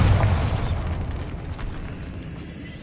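A Bombarda spell explodes in a video game, a loud, deep boom at the start that rumbles and slowly fades over a few seconds.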